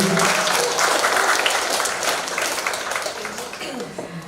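A crowd at a university talk show claps and applauds steadily, a dense wash of hands that holds strong and then eases off slightly toward the end.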